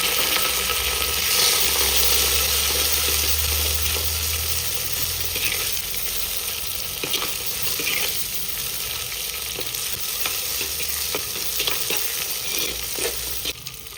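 Small onions fry in hot oil for a fish curry, a steady sizzle with occasional stirring clicks and scrapes, and a low hum running underneath throughout.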